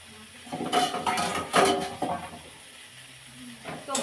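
Shidol shak being fried in a pan, with metal spoon scrapes and clanks against the pan over a faint sizzle, close and busy for a few seconds, then quieter.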